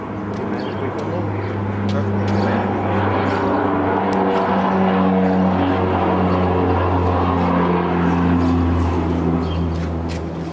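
A military plane in flight, heard from inside as a steady, loud propeller-engine drone with layered low hums that holds without a break, with voices talking faintly under it.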